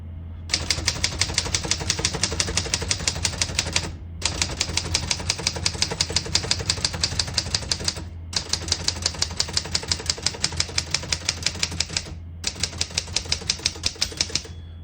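Rapid, steady clacking of typewriter keys in three long bursts separated by brief pauses, close and loud over a low hum.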